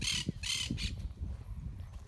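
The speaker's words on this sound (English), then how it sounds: "Parakeet, I think they're called in English" A parakeet squawks in harsh, raspy bursts, about three loud calls in quick succession near a horse track paddock, followed by quieter outdoor background.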